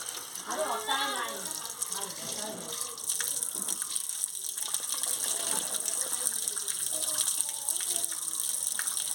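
Chopped cabbage and other vegetables are rinsed under a steady gush of running tap water in a kitchen, with a voice speaking over the continuous splashing.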